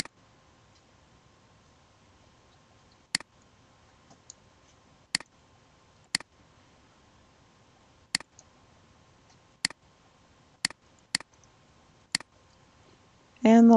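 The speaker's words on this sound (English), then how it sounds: "Left click, right click, okay." Computer mouse buttons clicking during CAD drawing work in a quiet room, about ten sharp, isolated clicks spaced irregularly over the stretch, each crisp and close, with a brief louder noise at the very end.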